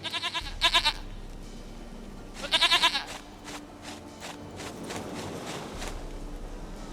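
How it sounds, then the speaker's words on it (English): A goat in a video game bleats twice, each call a short, wavering, nasal burst a couple of seconds apart, with soft footstep-like shuffling and faint ambience in between. "Goat of mine! Dearest, sweetest goat!"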